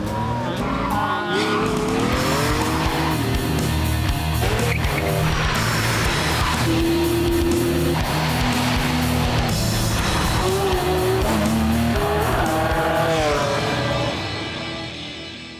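A Ferrari F40 supercar is driven hard on a race track. Its loud engine revs rise and fall continuously, with tire squeal through the corners, before the sound fades at the end.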